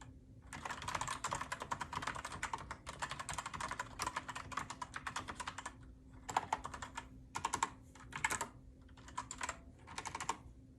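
Close-up typing on a KeyMaster mechanical keyboard with linear keys: quick clattering bursts of keystrokes, with a few short pauses and a handful of isolated presses near the end.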